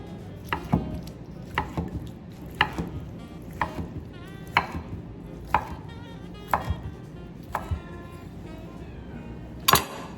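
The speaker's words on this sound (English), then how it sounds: "And we're just gonna slice it up now." Knife slicing cooked pork on a cutting board, a series of evenly paced sharp thunks about once a second, close and moderately loud over a low background hum.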